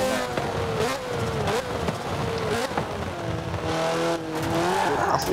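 Car engine revving hard in Forza Horizon 4, loud and close, with rising and falling gear pitches and tyres squealing and skidding through corners, no talking.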